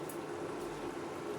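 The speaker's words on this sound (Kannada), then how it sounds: "ಇವಾಗ ಇದನ್ನು ಚೆನ್ನಾಗಿ ಕುದಿಸಿ" Ginger tea sweetened with jaggery boils in a pot, giving a faint, continuous bubbling simmer that stays even throughout, with no talk.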